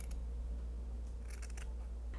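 Scissors snip through paper while cutting out flower shapes, making a quick cluster of light, crisp clicks over a steady low hum.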